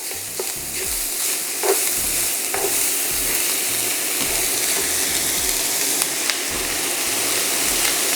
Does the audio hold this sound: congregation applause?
no